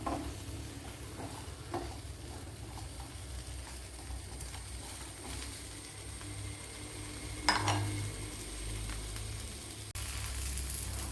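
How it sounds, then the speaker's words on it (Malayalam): Chopped okra sautés in a pan with a soft, steady sizzle, broken by occasional scrapes and clinks of a utensil stirring against the pan, with no talking. "വെണ്ടയ്ക്ക ഒന്ന് വഴറ്റിയെടുക്കണം."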